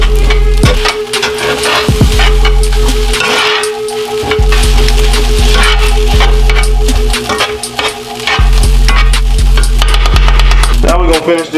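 Eggs frying and being stirred into a steak and shrimp hibachi on a home griddle give a loud, steady sizzle. Spatula scrapes and clanks break through at irregular intervals, with a low hum running underneath.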